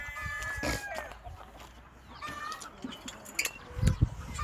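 Korean cheonggye chickens, a green-egg breed kept free-range, cluck and squawk in bursts nearby, with rooster crowing, and someone talks faintly underneath.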